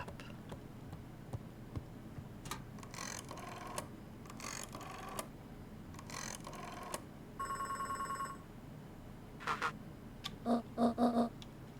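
A telephone rings in the video game Beacon Pines, a faint electronic trill heard in short bursts near the end after a run of soft clattering and ticking sounds, all quiet over a low background.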